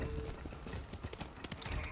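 Horse hooves clip-clopping in the video game Ghost of Tsushima, a quick, steady run of hoofbeats close by, with a brief whinny-like tone at the start.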